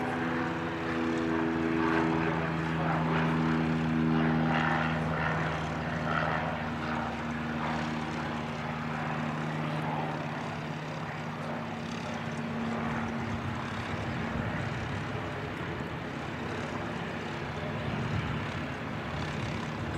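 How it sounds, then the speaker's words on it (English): An ATR turboprop airliner departs Christchurch Airport bound for Tauranga, its propeller drone steady and loud with strong harmonic tones that shift and fade into a broad roar as it climbs away, alone without talk. "Another ATR coming out. This one's heading off to Tauranga"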